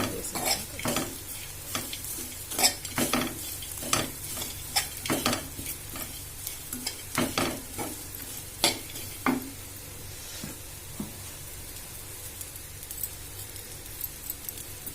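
A spoon stirs amaranth fry in a hot pan, scraping and clattering in an irregular rhythm over a constant sizzle. The strokes are close and fairly loud, then thin out toward the end, with no voice.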